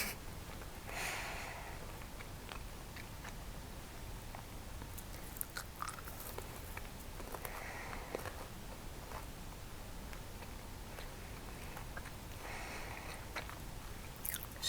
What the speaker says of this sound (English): they are crunchy on the outside and a little bit squidgy in the middle